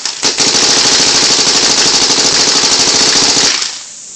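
Bob Long Marq paintball marker firing at a PSP ramp rate of 30.5 balls per second, a loud, dense rapid-fire rattle of shots lasting about three seconds, then stopping abruptly.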